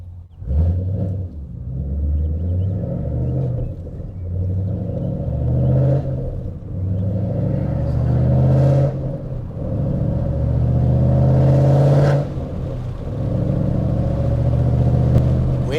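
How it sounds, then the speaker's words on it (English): A loud Ford Mustang GT engine rumbles and revs from inside the car while driving, with deep throaty surges, downshifts and pulls rising and falling continuously. "Doing that but downshifts and pulls"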